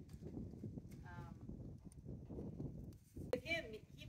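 A young colt's hooves shift and thud on a horse trailer floor, soft uneven steps under a quiet voice, with one sharper knock near the end.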